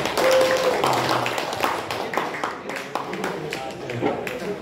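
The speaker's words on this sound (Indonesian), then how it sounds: "Kasih tepuk tangannya buat Teteh." An audience at a religious study gathering breaks into scattered, moderate clapping that continues for a few seconds while a voice speaks over it.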